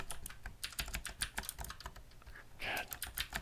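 Fast, uneven typing on a computer keyboard, close and crisp clicks in bursts with a brief voice murmur partway through.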